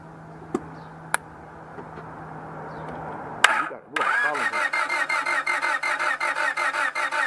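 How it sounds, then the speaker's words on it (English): A Honda Civic with a no-start fault cranks over, the starter whirring in a rapid, steady rhythmic pulse after a sharp click. It is close and fairly loud, following a quiet stretch with a couple of faint ticks. "So now, let's crank the car with the test light on."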